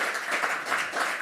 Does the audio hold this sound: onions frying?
no